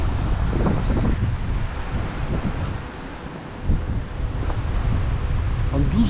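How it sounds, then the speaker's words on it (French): Spring wind buffets the microphone outdoors at a bird reserve, producing a loud, continuous low rumble that swells and eases in gusts throughout. "Alors là on va attaquer le vent, je suis désolé. Vous devez bien l'entendre maintenant."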